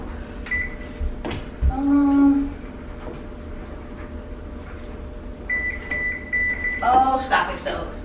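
A kitchen stove's electronic control beeps as the oven is set to preheat to 350 degrees for a baking mix, several short tones and a longer beep scattered under someone talking.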